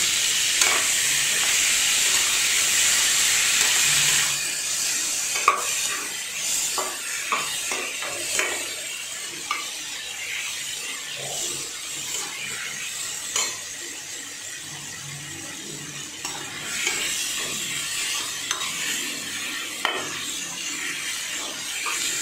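Onions and tomatoes sauté in a pan, with a steady sizzle and frequent scraping and clinking as they are stirred, all close up.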